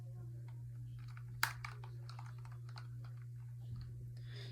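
Computer keyboard typing during a Nitro Type typing race, faint scattered clicks of keys over a steady electrical hum, with one sharper tap standing out, no talking.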